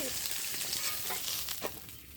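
Belly pieces of a large pangas fish fry in hot oil, a continuous close sizzle with crackling bursts as the pieces are stirred.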